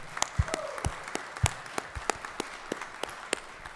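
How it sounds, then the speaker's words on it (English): Scattered, distinct handclaps from a small group in the Georgia Senate chamber land in an irregular rhythm, a few sharper and louder than the rest, with quiet room tone between them. "So let's give Miss Brass a round of applause here"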